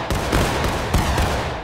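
A loud, dense rifle volley booms out in the Civil War video game War of Rights, rolling gunfire crackling for over a second with sharp peaks close by.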